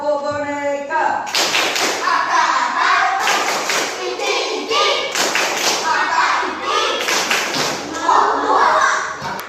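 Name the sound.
children clapping in a "tepuk boneka" clap game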